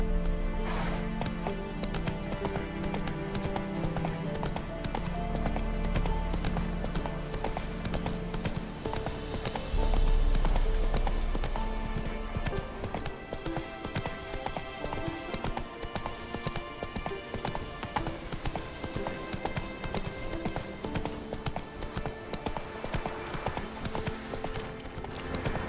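Roach, the horse in the video game The Witcher 3, gallops with rapid, continuous hoofbeats under a dense layer of game music, holding a driving pace from start to finish.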